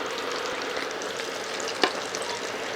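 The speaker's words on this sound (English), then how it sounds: "I'm going down in the oil. All right, this is canola oil I'm using today." Breaded bream fillets fry in hot canola oil with a continuous close, bright sizzle. One sharp spatter stands out briefly, and no one talks.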